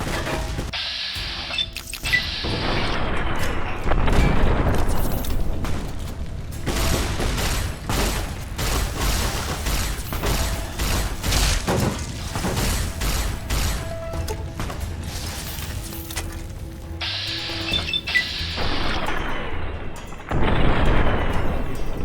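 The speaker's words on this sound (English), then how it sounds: "can you stop the explosions already?" Loud, repeated explosions in Fallout: New Vegas (Lonesome Road) boom and rumble over a dense stream of mechanical clatter and gunfire-like bursts, continuing for the whole stretch.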